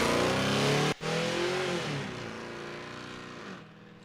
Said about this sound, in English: Kind of like the decade itself, Dave, the 1960s vehicles make a lot of noise.